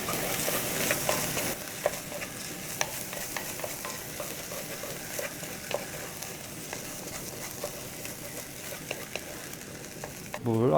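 Rice being stir-fried in a Staub cast iron pot, a steady sizzle with repeated scraping and stirring strokes, close and continuous, with faint speech at the very end.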